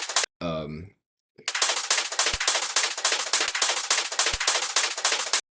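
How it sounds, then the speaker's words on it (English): A fast, steady stream of crisp hi-hat ticks loops on and on in a speedcore track, preceded by a brief voice-like tone and a short pause. "So here I have a hi-hat loop"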